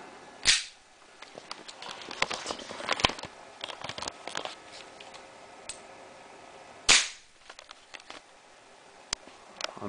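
A Colt M1911 A1 airsoft pistol from WE fires two sharp, isolated shots several seconds apart, with faint handling clicks and small rattles in between, close and quiet otherwise.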